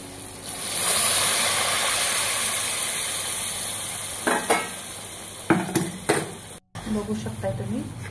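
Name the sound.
masala being roasted in oil until the oil separates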